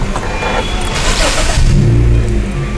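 A Honda HR-V engine idles while warming up in the dark, a steady low rumble close by with a brief rise in the middle, and voices talk faintly over it.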